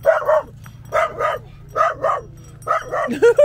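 Several hunting dogs bark outdoors around a travellers' truck, giving repeated loud bursts of barking in clusters with short gaps, close by, with a low steady engine-like hum underneath.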